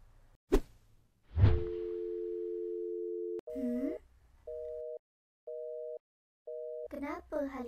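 A cartoon phone rings out unanswered, a steady electronic tone pulsing in evenly spaced bursts after a whoosh and a thump, with a voice chiming in at the end.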